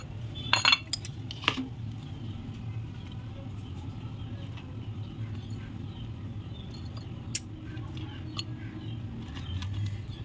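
Crispy fried chicken pakoras are set down on a plate, giving a few close, sharp clinks and crunchy taps early on, then sparse faint knocks over a low steady background hum.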